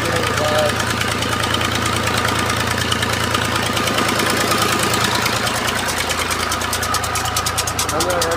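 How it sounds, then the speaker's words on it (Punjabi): A tractor engine driving a tubewell bore beside a canal-irrigated orchard in Punjab runs loud and steady at close range, a dense knocking drone throughout, with a voice speaking over it. "ਟਿਊਬਵੈੱਲ 'ਤੇ ਟਰੈਕਟਰ ਚੱਲਿਆ ਸੀ ਅਤੇ ਟਿਊਬਵੈੱਲ ਚਲਾਉਣਾ ਸੀ"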